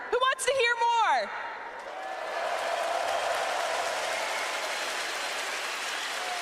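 A large live audience at a Rainbow Six Siege Year 9 roadmap reveal event in Brazil bursts into sustained cheering and applause, a dense roar of crowd noise that swells and holds steady after a brief stretch of an announcer's talk.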